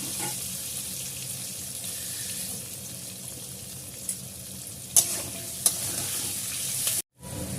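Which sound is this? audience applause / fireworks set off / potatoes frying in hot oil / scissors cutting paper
potatoes frying in hot oil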